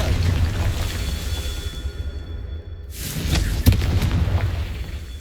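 A Confringo fire spell explodes in Hogwarts Legacy: a loud, close boom bursts in about halfway through over a steady rumbling game backdrop, followed by a sharp pop and a brief trailing rush.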